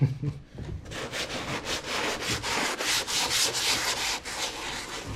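Steady, repeated rasping strokes of sanding high spots on a mold for race car parts, close by and fairly loud, in a regular back-and-forth rhythm with no talking.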